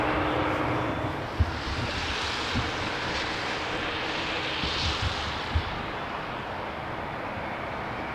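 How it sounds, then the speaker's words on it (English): Airbus A330-300, 17 years old, arriving from Salt Lake City to land on runway 27 at Amsterdam Schiphol: a steady, broad jet-engine roar at moderate distance, holding level for several seconds with a few faint knocks. "another A330-300 coming in from Salt Lake City"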